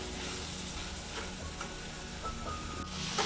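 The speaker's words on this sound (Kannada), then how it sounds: "ಹಾಕಿ ಇದನ್ನು ಚೆನ್ನಾಗಿ ಫ್ರೈ ಮಾಡ್ಕೊಳ್ಬೇಕು" Coriander leaves frying in oil for a village-style country chicken curry, giving a soft, steady sizzle with faint stirring underneath, fairly quiet throughout.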